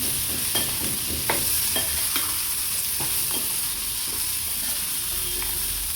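Cooked horse gram goes into a pan of frying onion and radish for a village-style curry, with a steady sizzle and hiss and repeated scraping stirs of a spoon against the pan.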